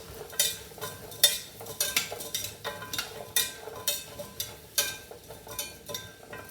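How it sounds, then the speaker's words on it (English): Red lentils being stirred into a thick sweet potato curry in a pot, a rhythmic series of wet scraping strokes roughly every half second, close and clear with a faint sizzle underneath and no talking. "we're going to give it a good mix"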